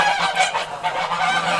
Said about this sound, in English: I'm going to walk away from the geese so they don't interfere too much in the sound.